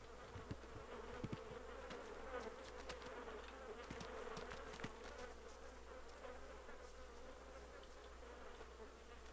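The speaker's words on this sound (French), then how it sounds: "Les mouches sont attirées par les corps en putréfaction." Flies in the survival video game DayZ buzz steadily around rotting bodies, a close, continuous insect drone with small flickers as they dart about, no voices present.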